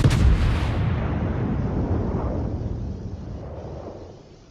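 A single heavy tank gun shot in a war video game booms loud at the start, then rolls out into a long rumbling decay that slowly fades.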